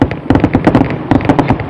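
Fourth of July fireworks in Chillicothe crackle in a dense, rapid string of sharp pops, loud and close, in two bursts with a short lull between.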